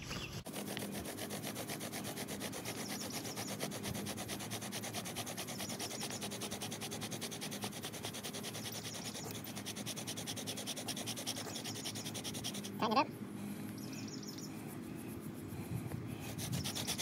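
A wooden bow drill spindle rubs against a wooden board in a rapid, continuous back-and-forth scraping, close and steady, with a brief knock near the end.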